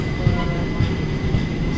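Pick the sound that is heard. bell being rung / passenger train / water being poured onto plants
passenger train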